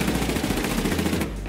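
Rapid automatic gunfire in the war game Foxhole, a fast even string of loud shots rattling for over a second before stopping abruptly.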